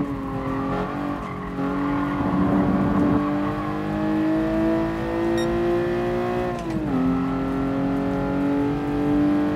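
A 150 hp Toyota 2000GT corners in the racing game GT Sport, its engine droning steadily and its pitch rising and dropping through the bend with a brief tyre squeal, loud and continuous.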